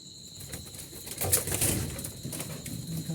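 Jalali pigeons kept in a home loft coo softly and intermittently, with faint wing flutters and a steady background hum.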